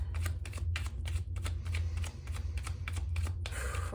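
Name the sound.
shuffling and cutting tarot cards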